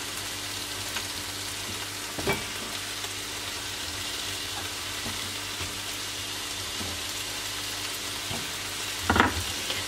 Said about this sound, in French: je fais revenir mon oignon avec mon tofu